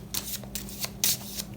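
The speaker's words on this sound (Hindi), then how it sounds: "सारे कार्ड्स पहले निकाल देते हैं" Tarot cards being drawn and shuffled from a deck, several brisk papery riffles and slides in quick succession, close and fairly quiet, with no talking.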